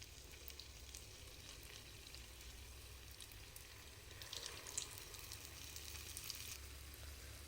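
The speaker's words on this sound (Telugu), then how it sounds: "పూర్ణాలన్నిటిని కూడా ఇదే విధంగా ఈ బ్యాటర్లోకి వేసుకొని డీప్ ఫ్రై చేసుకోవాలి" Batter-coated moong dal sweets deep frying in hot oil, a steady faint bubbling hiss throughout that swells slightly near the end, with no voices.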